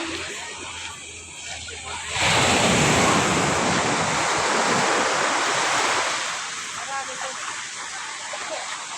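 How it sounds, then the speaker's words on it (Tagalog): Rough surf at a beach rises into a loud rushing wash of breaking waves that swells and then recedes, with wind buffeting the microphone and voices talking in the background. "So guys, maalon talaga rin sa niliguan namin."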